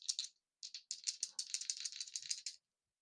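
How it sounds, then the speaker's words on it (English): Two dice rattle and clatter during a Metal Gear Solid board game, first a short shake, then a longer run of rapid rattling before they settle; no speech. "So she's got to roll 2 dice"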